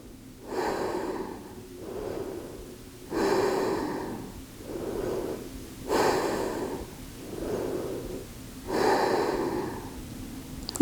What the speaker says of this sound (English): I was breathing kind of fast because I'm out of breath.